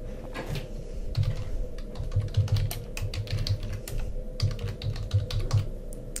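Rapid, uneven keystrokes on a computer keyboard as search terms are typed into a library catalogue search box, steady clicking close up with no talking.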